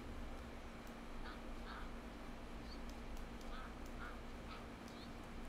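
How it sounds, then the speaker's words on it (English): Ducklings in the World of Warcraft game quack in soft, scattered calls, about eight short quacks spread across a steady ambient game hum, with no talking. "Quack, quack, quack."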